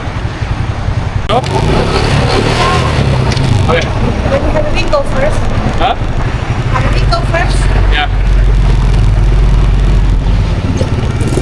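An old vehicle drives toward a market in a Thai village, its steady engine rumble running loud and close throughout, with voices talking over it.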